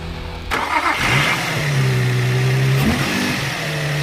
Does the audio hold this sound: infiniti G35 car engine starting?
yes